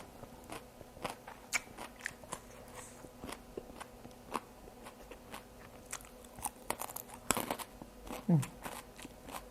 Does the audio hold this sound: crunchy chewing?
yes